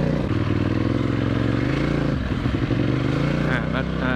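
An Aprilia RXV 550 motorcycle rides along a trail, its engine droning loud and close with a steady throbbing rumble and some clatter.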